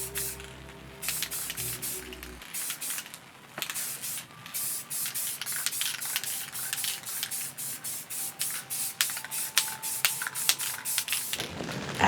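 Repeated bursts of aerosol spray paint hiss over a rifle laid flat on cardboard, laying down a brown base coat for M81 Woodland camouflage; close, loud and steady, with short pauses between passes and a faint background hum at the start.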